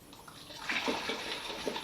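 Liquid pours and splashes into a container, a soft gurgling trickle that swells briefly and continues faintly near the microphone.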